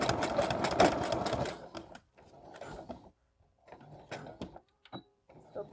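A sewing machine stitches ribbon straight across a tutu waistband, running in several close, loud bursts with short pauses between runs, like back-and-forth stitching.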